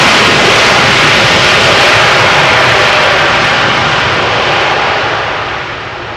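An airliner landing at Amsterdam Schiphol Airport roars loudly and close as it passes, a broad continuous engine rush that slowly fades toward the end.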